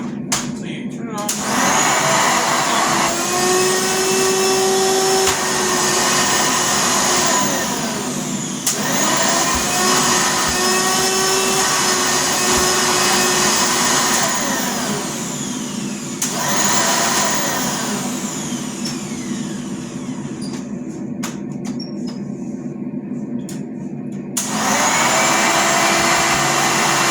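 A 1990/1991 green Hoover Legacy bagged upright vacuum cleaner runs with a loud steady motor whine and airflow roar, briefly dipping in pitch a few times and cutting out near the end before starting again.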